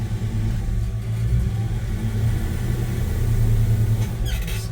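A 1984 Chevy C10 truck engine idling and easing out of a garage, a steady low rumbling drone with a deep throaty pulse, close and loud throughout with no talk.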